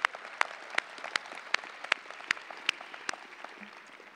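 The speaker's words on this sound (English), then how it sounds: "Danita, stand up and let's give her a round of applause." Sparse audience applause at a university doctoral hooding ceremony, a thin scattering of separate claps in a quiet hall rather than a full ovation, steady across the few seconds.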